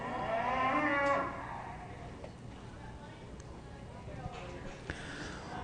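Dexter cattle yearling heifers in a show ring, with a loud drawn-out moo at the start followed by quieter low calls and scattered thumps and arena noise, while an announcer speaks over the ring.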